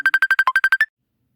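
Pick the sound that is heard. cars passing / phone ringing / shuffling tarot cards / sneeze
phone ringing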